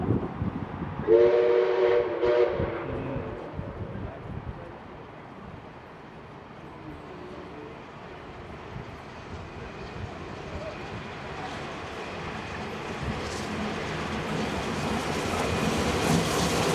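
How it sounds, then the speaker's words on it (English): Locomotive 5917 hauling its train through Carlton Station on a Sunday evening sounds a short whistle early on, then a continuous rumble of wheels and carriages that swells toward the end as the train passes. "Then we see the locomotive and its train passing through Carlton after dropping off passengers at Hurstville"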